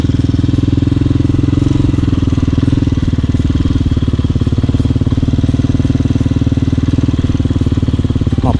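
A motorcycle engine idles close by, a loud, steady low rumble with a fast, even pulse that carries on unbroken without revving or talk.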